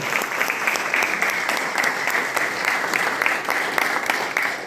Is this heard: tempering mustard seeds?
no